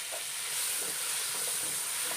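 Three tomatoes sauté in a pan with turmeric and chili powder, a dense continuous sizzle and hiss close up, with faint stirring scrapes underneath and no voices.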